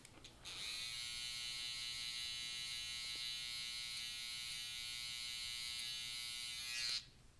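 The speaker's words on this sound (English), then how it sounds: "I'll even use the trimmer as a tool to fade in these little stubble areas where it meets the skin" An electric hair trimmer fades stubble where hair meets skin, a continuous close buzzing hum that starts sharply, holds steady for about six seconds and then cuts off.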